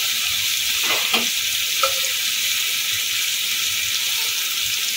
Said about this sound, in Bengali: ভালো করে মশলাটাকে ভেজে নেব। সামান্য একটু জল দেবো, নাহলে আটকে যাবে।